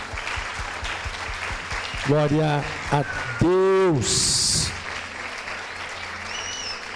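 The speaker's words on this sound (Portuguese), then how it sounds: "Você pode aplaudir ao Senhor." A church congregation claps steadily through a service, producing a low, continuous patter of applause beneath a preacher who speaks and calls out over it, loud and near.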